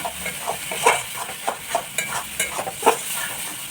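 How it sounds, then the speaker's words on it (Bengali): Spice paste with chilli powder and turmeric is stir-fried for a jackfruit and prawn curry. A spatula scrapes and knocks the pan in a quick repeating rhythm over a light, steady sizzle, with no talking. "তো বন্ধুরা এই মশলাটা ভালো করে কষে নেব"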